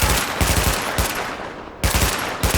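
Automatic gunfire from a shooter video game set in The Division, several loud close bursts of rapid shots separated by short pauses, with no talking.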